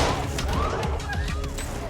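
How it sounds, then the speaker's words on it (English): Rapid burst of several gunshots from a TV crime drama, loud and echoing with crashing impacts over a short stretch, mixed with background score. "Shots fired."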